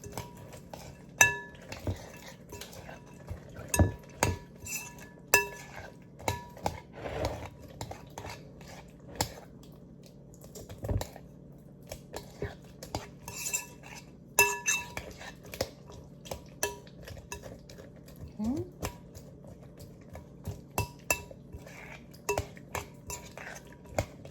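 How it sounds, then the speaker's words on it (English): Meatloaf mixture of crushed crackers and a whole can of liquid being stirred and mixed in a bowl, with soft repeated clinks and scrapes of utensil against dish, fairly quiet and close, with no talking. "We're going to mix this up and let this get absorbed."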